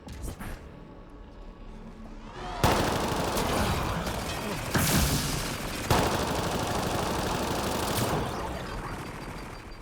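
An enemy turret in the Badlands of Mass Effect: Andromeda opens fire in sustained loud automatic bursts with sharp impacts, continuing steadily after a quieter start.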